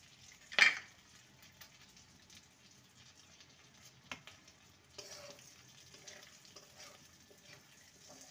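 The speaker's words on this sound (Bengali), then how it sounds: "ফোড়নটাকে কয়েক সেকেন্ড ভেজে নেব।" Crushed whole cloves, cardamom and cinnamon hit hot oil in a pan with a sharp sizzle burst, then settle into a quiet, crackling fry with a few stirring clinks and scrapes.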